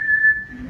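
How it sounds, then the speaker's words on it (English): A referee's whistle gives one sustained, steady shrill blast lasting most of a second, loud and close with no talk over it. "I'm more like a referee in the middle blowing a whistle."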